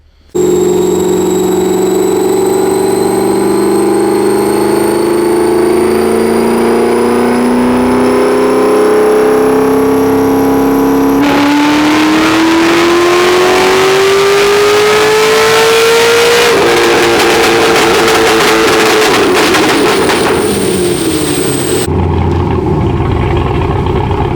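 A Corvette C6 Z06 engine on a dyno pull, revving hard from about 4,000 rpm up toward redline. The pitch climbs steadily and loudly, then breaks into a harsh, rough roar before cutting off abruptly near the end.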